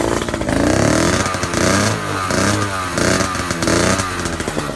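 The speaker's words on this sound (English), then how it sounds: "and it starts and it idles" A Rieju MRX 50cc moped engine buzzes and crackles as it starts, then keeps running at a choppy, uneven idle close by, with short blips rising and falling through the few seconds.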